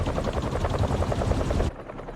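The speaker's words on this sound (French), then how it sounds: "Des pales d'hélicoptère, c'est ça." Helicopter rotor blades in the video game Spider-Man 2 beat in a steady, rapid pulsing thump, loud and close, cutting off abruptly near the end.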